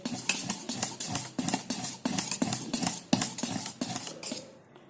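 Lentil batter with ginger and chilli slices is mixed by hand or spoon in a bowl, giving rhythmic wet slaps and clinks in quick repeated strokes, close and fairly quiet.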